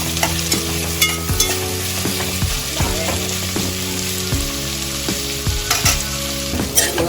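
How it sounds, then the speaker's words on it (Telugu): Thinly sliced onions frying in a pan while cooking coconut-milk chicken biryani, a steady close sizzle broken by repeated scraping stirs with a utensil, no talking. "ఇలా వేయించుకోండి."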